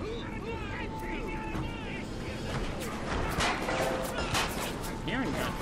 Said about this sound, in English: I'm hearing gunshots, but I ain't seeing gunshots.